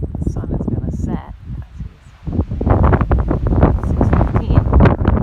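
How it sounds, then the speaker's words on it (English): Strong wind blasts across a mountain summit near Mount Cabot, loud gusts buffeting the microphone with a roaring rush that dips briefly and then surges again. "Windy as heck."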